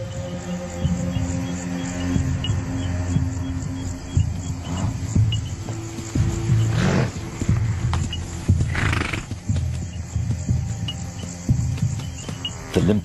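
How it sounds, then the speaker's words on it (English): A zebra herd moves at night on the African plain, with a limping zebra lagging behind. Hooves shuffle and clop while occasional whinnies rise over a constant chorus of crickets and insects. "The sound of the herd draws one of the lionesses closer."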